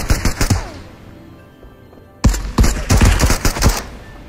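Shotgun blasts and rapid gunfire from the Marauders video game crack in dense, loud bursts. A brief lull of around a second separates them before another heavy volley.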